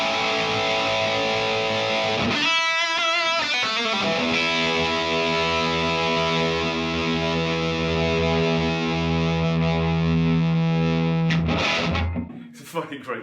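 Electric guitar driven through a JHS Andy Timmons overdrive pedal into a loud amp, playing a few quick strummed chords and then a long, saturated chord that rings and sustains before cutting off near the end.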